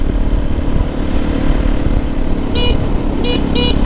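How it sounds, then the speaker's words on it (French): A motorcycle horn gives three short beeps near the end over a loud, steady engine and road rumble, the first slightly longer than the two quick ones that follow. "Le klaxon"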